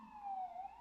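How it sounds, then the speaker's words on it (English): A siren wails outside at a distance, one faint rising-and-falling tone that sweeps slowly and stays soft, with no talk over it. "Of course the siren comes."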